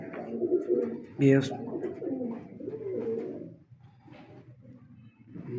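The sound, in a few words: Kalu Baloch breed pigeons cooing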